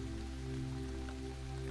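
Steady rain falling over an open field, a continuous soft hiss and patter with no distinct drops, blended with a low sustained droning hum underneath, no voices present.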